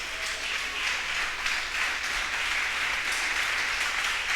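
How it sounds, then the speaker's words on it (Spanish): Steady applause from a church congregation, a dense even wash of clapping held at moderate volume from start to finish without voices. "Qué aplauso más pobres."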